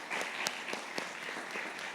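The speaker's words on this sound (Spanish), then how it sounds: "Denle un fuerte aplauso al Señor esta mañana," A church congregation applauds during a Spanish-language service, giving steady, moderately quiet clapping with a few sharper individual claps standing out.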